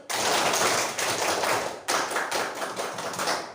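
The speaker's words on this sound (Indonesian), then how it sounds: "Tepuk pramuka 2 kali" Indonesian scout clapping performed twice by a combined class of schoolchildren: two loud, dense waves of many hands clapping together, each ending sharply, heard close in a classroom.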